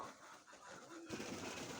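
A handsome pigeon, one of the Mykolaiv breed kept in Chornobaivka, coos softly in a short, faint call against quiet outdoor background noise.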